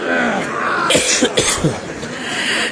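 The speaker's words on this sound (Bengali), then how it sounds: "কাশি দিয়ে গেলেন" Several quick coughs cut through a loud, noisy crowd din, a short cluster of harsh bursts near the middle.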